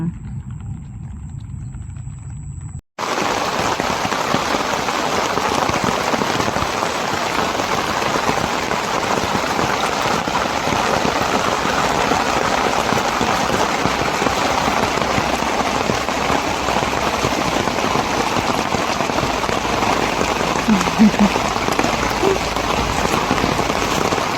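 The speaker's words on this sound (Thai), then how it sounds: "ฝนตกมันก็จะมืดมืดนะเจ้า" Steady rain falls loud and close across a fishing spot while carp fishing, a dense even hiss of drops on surfaces that starts abruptly after a brief quiet, dull opening and continues unbroken.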